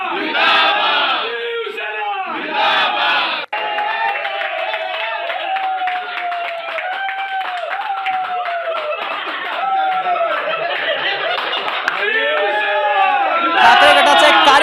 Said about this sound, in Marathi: शिवसेना जिंदाबादच्या घोषणा दिल्या जात आहेत